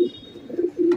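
A pair of pigeons, racer-type and fancy highflyer breeds, give a few short, close, moderately loud coos in quick succession, with no talk.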